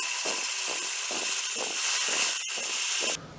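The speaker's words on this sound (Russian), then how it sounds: "И забиваем блендером до такой пастообразного состояния" A blender whirs loudly, pulsing in short rhythmic bursts as it churns a thick cleaning paste of glue, salt and grated soap, then cuts off abruptly at the end.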